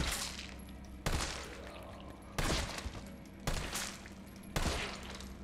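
Gunfire in Resident Evil 3: about five heavy, booming shots spaced roughly a second apart, each with a sharp crack and a rumbling tail, loud and close.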